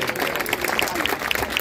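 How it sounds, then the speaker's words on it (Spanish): Audience clapping at a school candidates' forum, a brisk, dense patter of hands, moderately loud with a few sharper bright claps standing out, no speech on top. "Muchos aplausos."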